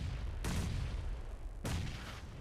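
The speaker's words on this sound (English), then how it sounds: "Oh, but the nades keep on flying" Grenade blasts in the mobile battle royale PUBG Mobile during a competitive esports match: two heavy, booming explosions about a second apart, each a sudden broadband burst that rumbles away over a steady low background.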